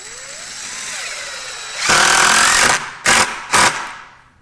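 A power drill drives screws down through the top of a board while building a chicken tractor, giving one sustained whirring burst followed by two short ones, loud and close, with no talk.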